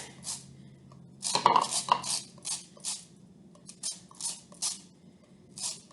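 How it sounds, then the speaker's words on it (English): Fresh lime being zested on a small grater, giving a series of close, crisp scraping strokes in uneven bursts, with one busier flurry early on and short pauses between the later strokes. "You can use a zester or you can use a small grater."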